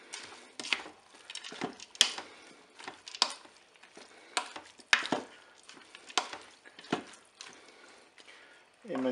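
Peas and other paella ingredients being stirred in a Cookeo electric pot, with repeated scraping and clinking strokes of a utensil against the pot at an uneven rhythm, close up and moderately loud.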